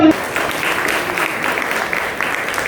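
An audience at a felicitation ceremony claps steadily and loudly in a dense, even burst of applause lasting a few seconds.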